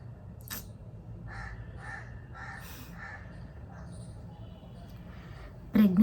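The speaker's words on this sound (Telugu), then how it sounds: "ఇంకా చూడండి కాకులు గందరగోళంగా అరుస్తుంది." Crows caw repeatedly beside a large neem tree next to a house, a series of harsh calls spread across the stretch over a steady low background hum, with a louder thump near the end.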